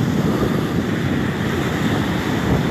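Ocean waves roll in a steady, broad wash of surf noise, close and fairly loud, with wind rushing over the microphone and no voices.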